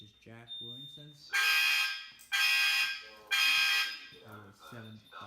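A fire alarm at a fire alarm soundoff blares in three loud, harsh bursts of about a second each, with a person talking between them.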